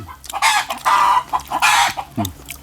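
Chicken clucking loudly and close by, a few repeated squawking bursts in quick succession, with no talk over it.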